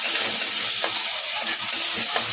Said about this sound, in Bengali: পেঁয়াজটা হালকা লাল করে ভেজে নেবো খুব না খুব বেশি না